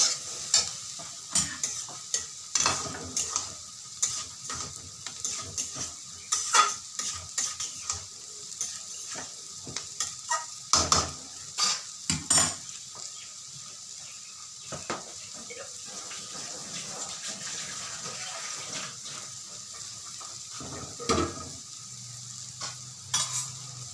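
Banana flower and snake gourd fry with turmeric and salt in a pan, a steady sizzle broken by repeated scraping stirs and clacks of the spoon, close and moderately loud.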